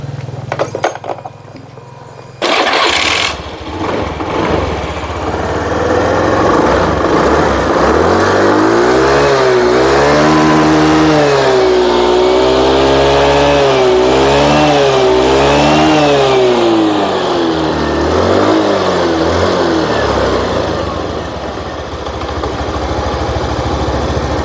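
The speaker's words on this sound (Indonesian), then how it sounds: "Setelah saya coba Kang Bro nyalakan mesinnya, ternyata memang ya" Honda Beat FI scooter with heavy fuel use and hard starting in rain, started after a brief clatter, then loud continuous engine running with rising and falling revs, revved repeatedly near the mic with no talking.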